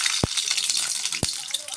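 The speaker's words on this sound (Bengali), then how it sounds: "তো এই যে ডিমগুলো একটু ভাজা করে নেব।" Eggs frying in a pan, a dense close sizzle and crackle throughout, broken by two sharp knocks or taps.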